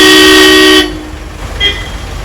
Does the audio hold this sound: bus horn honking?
yes